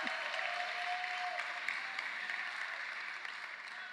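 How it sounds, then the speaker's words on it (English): Audience applause at a People's State of the City 2020 event, steady clapping from a crowd heard at moderate distance, fairly faint and sustained throughout. "yeah, clap for that"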